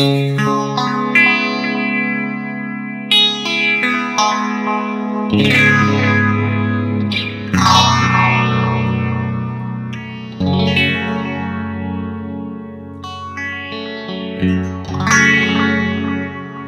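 Clean guitar chords through a Nux Mighty Air amp's shimmer reverb ring out lushly, swelling and sustaining, each strum blooming into a bright, ethereal wash.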